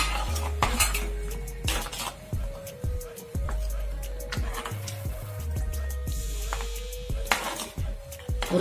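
Spoon clattering and scraping in a metal pan while raisins and cashew pieces are stirred into spices for a chutney, with repeated close metallic knocks at an irregular stirring rhythm and no talking.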